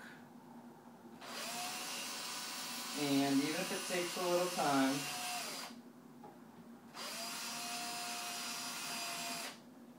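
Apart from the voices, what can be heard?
power drill drilling holes in wing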